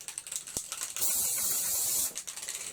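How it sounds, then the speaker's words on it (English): A short, steady aerosol spray hiss lasting about a second, close and loud, with faint handling clicks before and after. "But now I need my stencil spray"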